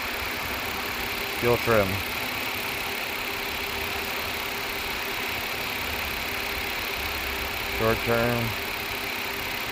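A 2006 Ford Five Hundred with the 3.0L engine idles steadily at a constant low rumble, with two people talking briefly over it.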